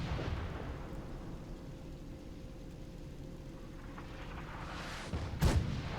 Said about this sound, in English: Basically a mini nuke in that artillery fire.